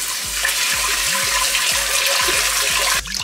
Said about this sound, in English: you're just gonna wash this rice and get all that starch off of it 3, 4, even 5 times until the